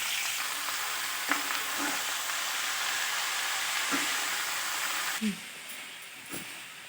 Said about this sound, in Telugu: దొండకాయ ముక్కలు ఇలా వేయించాలి